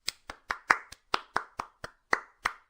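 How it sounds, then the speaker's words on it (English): A single character clapping his hands in applause after watching a cartoon: about ten crisp, separate claps in an even, moderately quick rhythm, close and clear with nothing else around them. "Lumpy applauds."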